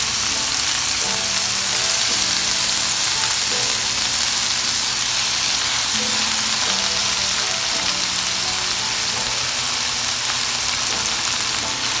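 Bok choy fries in a pan on a low stove, giving a steady, close, dense sizzle that holds evenly throughout with faint stirring clicks and no talking.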